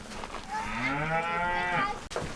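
A single cow on a farm gives one long, loud, drawn-out moo close by, alone with no voices.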